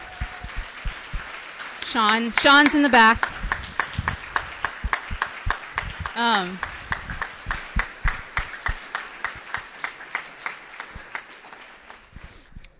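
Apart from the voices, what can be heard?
audience applause for staff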